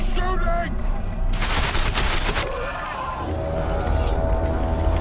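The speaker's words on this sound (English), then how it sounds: "They're shooting!" Battle gunfire in The Witcher 2 comes as dense bursts of shots over a rumbling game soundtrack, with a short loud volley in the middle and a voice speaking near the start.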